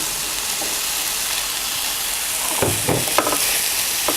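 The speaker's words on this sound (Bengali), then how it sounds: "এ পর্যায়ে দিয়ে দিচ্ছি ঝুরি করে ভেজে রাখা সেই ডিম।" Crumbled fried egg tipped into okra frying in a pan, a steady loud sizzle with a few brief stirring clatters near the end.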